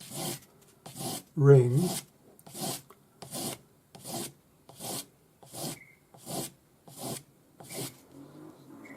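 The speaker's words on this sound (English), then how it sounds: "take my sanding stick with 400 grade sandpaper on it, and I want to just go over the whole" A sanding stick with 400 grit paper rubs over a metal spinner ring in about ten steady, rhythmic rasping strokes, close up, with a brief spoken word near the start.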